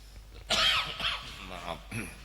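A single sharp cough bursts out, followed by a shorter throat-clearing cough, close up, with faint background murmur, during a morning religious lecture.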